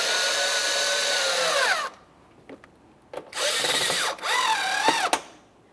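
Power tool snugging bolts on the inner fender liner of a 2004-2008 Ford F-150, loud close whirring bursts that rise and fall in pitch, separated by short pauses, no talk.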